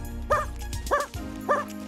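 A dog in the Rescue Bots animated cartoon gives three short, evenly spaced barks, clear and close against a faint background hum.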